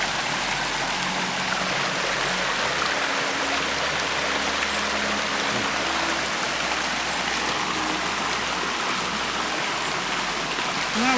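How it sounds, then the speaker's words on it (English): Mountain river water flowing and splashing in the Sierra Nevada, a loud continuous broadband rush close by with a low steady rumble underneath, no voices. "that's what happens when you put your stick in the river, Lucky."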